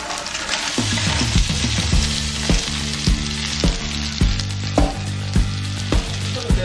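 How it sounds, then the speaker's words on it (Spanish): Tomato, garlic, onion and peanuts frying in lard in a pan, with a steady loud sizzle and repeated soft scraping stirs at a regular rhythm, and no voices. "Tenemos que sofreír un poco sin que se nos llegue a tostar."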